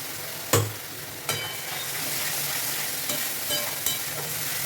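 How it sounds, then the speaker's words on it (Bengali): Spice paste fries in oil for pomfret curry, a steady close sizzle broken by a few scraping stirs of a spoon against the pan, with no voices. "ভালো করে আমি মশলাটা কষিয়ে নিচ্ছি।"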